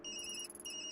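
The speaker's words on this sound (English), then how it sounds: "That's my phone." A mobile phone rings in Tokyo Dark, a short electronic ringtone of bright repeating tones, clear and moderately quiet over a low ambient hum.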